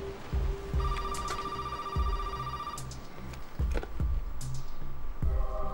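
A telephone rings inside the Resident Evil 7 game, its repeated bell-like trills sounding loud and close over a low, rumbling background with no talking.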